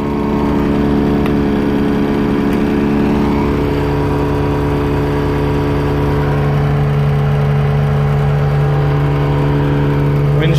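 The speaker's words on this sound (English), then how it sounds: "High does come on and it blows out a little bit, but it's hot air, but it's not full force." A 2006 Caterpillar 277B runs with its engine going and the air conditioner fan set to high, giving a steady, loud mechanical hum and whir that does not change throughout, with no voices.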